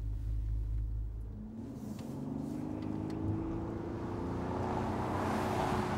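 A Bentley Continental Flying Spur's deep engine burble builds into a smooth rising growl as the car accelerates, the rumble swelling steadily and growing louder toward the end.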